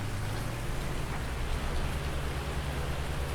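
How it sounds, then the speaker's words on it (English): Steady rain hiss with a low, droning hum underneath, continuous and even throughout, no voices, in the video game Farming Simulator 19. "It's already raining."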